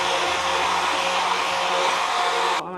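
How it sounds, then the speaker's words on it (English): An immersion blender whirs steadily in a cup of poblano sauce, a loud, continuous close-up buzz that stops abruptly at the end, with no talking. "I'm gonna use my immersion blender to get it nice and silky smooth."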